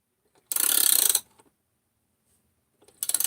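An installer tool worked with a ratchet wrench draws the crankshaft of a Jonsered 630 chainsaw into its crankcase bearing: two short, close bursts of rapid ratcheting clicks separated by a stretch of near silence.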